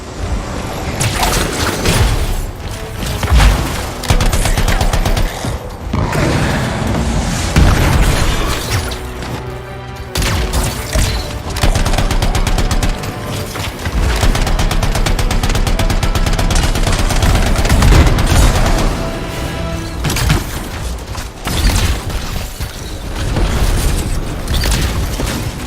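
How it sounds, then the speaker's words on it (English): Explosions and heavy weapons fire erupt in the game Anthem, loud booming blasts and rapid gunfire bursts layered over a dense, continuous combat rumble with no talking. "It'll be a contained explosion."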